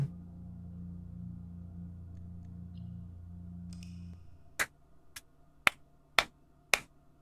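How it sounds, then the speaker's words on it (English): One person claps in excitement: five sharp, close claps land about half a second apart, right after a low steady hum stops. "That's my clap of excitement over that."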